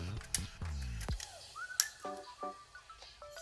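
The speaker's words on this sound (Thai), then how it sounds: "ต่อไปเป็น 25ขึ้นชัตเตอร์" Rolleiflex 2.8 twin-lens camera shutter set to 1/25 being cocked and fired, giving two sharp, close mechanical clicks about a second and a half apart, with brief low talk and faint tones around them.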